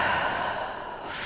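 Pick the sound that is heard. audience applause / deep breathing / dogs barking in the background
deep breathing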